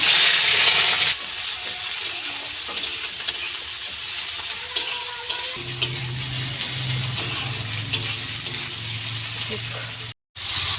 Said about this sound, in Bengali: পেঁয়াজ লঙ্কা একসাথে দিয়ে দিই।